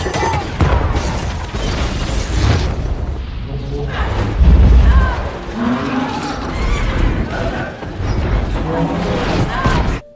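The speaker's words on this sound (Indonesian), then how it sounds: "satu-satu bom yang ada di tiang itu meledak" Deep booming bomb blasts from the film The Maze Runner go off amid a busy dramatic soundtrack with voices, one heavy low explosion standing out midway.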